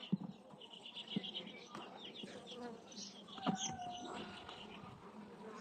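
Honeybees buzzing in an opened hive, a close, steady droning hum with shifting pitch and occasional louder passes near the listener. Faint handling noises sound underneath.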